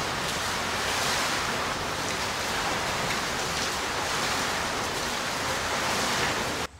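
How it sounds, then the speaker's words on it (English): Water pours steadily over a 24-foot diameter overshot water wheel at a water-powered grist mill, a dense, unbroken rushing wash that stays loud and close throughout with no talk. "Another shot of that impressive overshot water wheel. That is a 24-foot diameter wheel."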